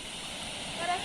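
Broad water pouring over Del Pilar Dam in Cagdianao, Dinagat Islands, spilling like a wide waterfall: a steady, close rushing hiss that fills the clip without a break.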